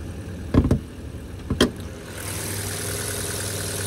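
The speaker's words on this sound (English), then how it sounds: "There you go, that little Ecotec motor. Sounds good." The small Ecotec engine of a 2012 Chevrolet Cruze LS idles with a steady low hum, following a couple of brief clunks and thumps near the start.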